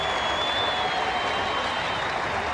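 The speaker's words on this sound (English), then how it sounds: "every run being greeted with a huge round of applause by this enthusiastic crowd" A cricket crowd at a 1995 South Africa versus England Test match applauds a run, a dense, sustained clatter of clapping that stays loud and steady throughout.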